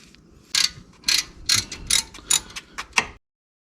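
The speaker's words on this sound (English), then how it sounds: "I managed to loosen the guide pins." A ratchet fitted with a 7mm hex bit loosens a car's brake caliper guide pins, giving about seven sharp, evenly spaced clicking bursts up close with no talking.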